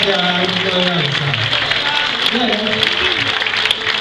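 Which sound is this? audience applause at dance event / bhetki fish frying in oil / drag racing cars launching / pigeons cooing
audience applause at dance event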